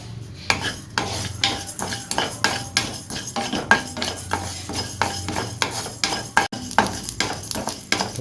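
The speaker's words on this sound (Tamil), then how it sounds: "இந்த ரெண்டையும் நல்லா வறுத்து எடுத்துப்போம்" Coriander seeds and cumin dry-roasting in a kadai, with a metal spoon scraping and rattling the seeds in quick, repeated strokes, up close and alone.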